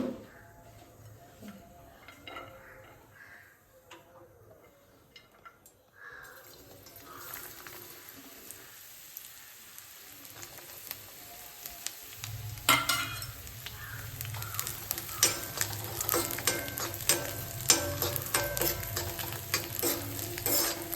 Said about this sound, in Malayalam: അപ്പം നമുക്ക് തേങ്ങാക്കൊത്ത് വറുക്കാം